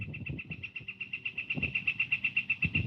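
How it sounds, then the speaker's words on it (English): Outdoors, a bird calls in a fast, steady series of high, pulsing chirps that runs through the whole moment. Soft low rumbles and thuds sound underneath. "Did you hear the bird?"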